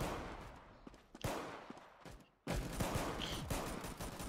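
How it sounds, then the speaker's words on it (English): Gunfire in the video game Arsenal, rapid sharp shots in quick bursts, a brief lull then a loud sustained barrage, close and without talk. "Shotgun."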